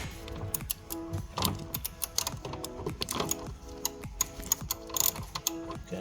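A hand ratchet loosens a bolt on a Porsche 911 battery with quick, rhythmic metallic clicks in uneven bursts, close and fairly loud, alone without speech.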